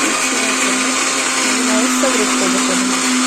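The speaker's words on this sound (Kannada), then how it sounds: "ಈ ಕಡೆ ಸಾಂಬಾರಿಗೂ ಸಪ್ರೇಟ್ ಬಸ್ಕೊಂಡು ಇಟ್ಕೊಂಡಿದ್ದೀನಿ ಕಟ್ಟು ಇವಾಗ ಜೋಡಿಸಿ ಇಟ್ಕೊಂಡಿದ್ದೀನಲ್ಲ ಅದನ್ನು ಎರಡನ್ನೂ ಮಿಕ್ಸಿಗೆ ಹಾಕ್ತೀನಿ" Mixer grinder running steadily, blending cooked field beans and lentils for bassaru; a loud, continuous motor whine with a steady hum throughout, with no break in its sound.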